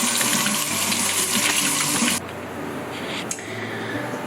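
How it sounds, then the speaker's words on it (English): Water runs steadily from a kitchen tap over washing hands, a continuous hiss that cuts off abruptly midway, leaving only a quiet room with one small click. "First step is washing your hands."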